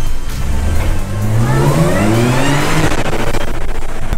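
An Audi S4 with an APR tune and Milltek exhaust accelerates hard through the tunnel at the entrance to the Bugatti circuit. The loud engine note climbs steadily and resonates off the tunnel walls, with no talking.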